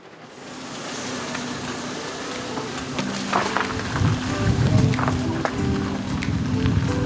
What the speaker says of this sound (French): on entend la drache saisonnière